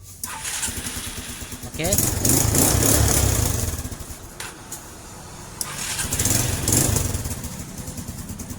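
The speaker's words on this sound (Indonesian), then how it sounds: "Saya double starter." A Suzuki Spin motorcycle's electric starter cranks and the engine catches twice, each start rising into a loud close revving idle, with someone speaking briefly between the starts.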